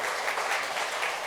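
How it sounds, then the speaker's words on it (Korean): Guests in a convention-hall grand ballroom clap for the bride and groom during a wedding ceremony, a brief, soft wash of applause. "이렇게 신랑 신부의 행복한 결혼 생활을 위해 다시 한번 응원의 박수 부탁드리겠습니다."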